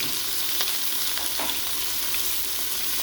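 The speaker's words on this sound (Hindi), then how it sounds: "अब हम इसको अच्छी तरह भूनेंगे।" Small pieces of mutton, about a kilo, fry hard in a pot for dum pukht, giving a dense, steady sizzle with faint crackles and spatula scrapes throughout, close and continuous with no talking.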